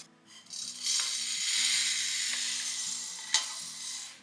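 Peanuts roasting in a pan, a steady dry sizzle with scraping stir strokes and a sharp clink near the end, close and alone.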